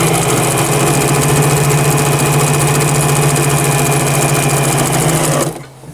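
Pfaff 130 sewing machine stitching a wide zigzag at its widest width and stitch length, a loud, steady mechanical whir with fast rhythmic clatter, running close up and alone, then stopping abruptly near the end.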